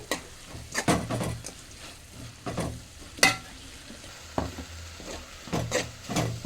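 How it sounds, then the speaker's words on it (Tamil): A spice paste of pepper powder, turmeric, garlic and onion fries in a pan while being stirred, with a soft continuous sizzle broken by repeated scraping strokes of the spoon, quiet and close. "இந்த பச்சை வாசம் போகிறது வரைக்கும் கொஞ்சம் கிண்டி விடணும்"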